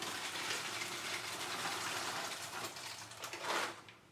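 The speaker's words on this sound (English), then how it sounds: "let me just dump some of these in the" Fresh pasta tipped into a pot of water on the stove, giving a steady watery gush and slosh for several seconds with a brief louder splash near the end, close and alone with no talk.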